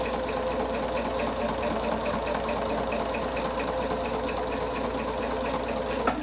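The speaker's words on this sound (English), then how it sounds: "I'm very careful not to pull or push the fabric at all, just to kind of rest my fingers here, guiding it in" Sewing machine stitching pieces of quilt fabric, a fast, even mechanical whir with rapid needle ticking running continuously and close up.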